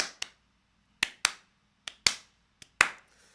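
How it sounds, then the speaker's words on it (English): Eight sharp, dry hand claps in an irregular rhythm, close and clear, each ringing briefly in a quiet indoor room. "So if I go clap, clap, that's one thing."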